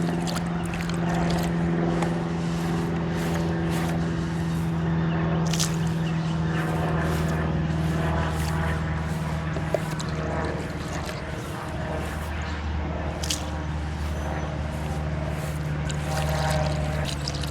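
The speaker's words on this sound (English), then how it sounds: "I may turn on the aerator and the pump, or sorry, the aerator and the fountain, just to try to mix it up a little bit faster." A pond aerator and fountain run together to mix blue dye into the water, giving a steady churning, splashing wash with a low mechanical hum, continuous and fairly close throughout.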